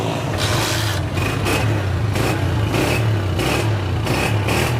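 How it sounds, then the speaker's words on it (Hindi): A Honda 125 motorcycle engine idles steadily close by, with a low rumbling drone and rhythmic pulsing revs repeating every half second or so. "आला बहुत अच्छे साउंड में बाइक बोल रही है।"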